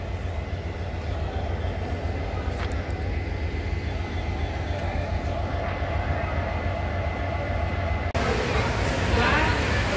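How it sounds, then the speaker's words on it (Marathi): Train on the newly built Vighanwadi to Beed railway line during a safety inspection run, a steady loud rumble with rail noise lasting throughout and a surge near the end, with a voice talking over it. "बघा ट्रेन"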